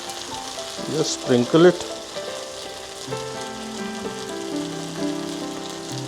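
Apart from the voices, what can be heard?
tomatoes added to frying okra sabzi, sizzling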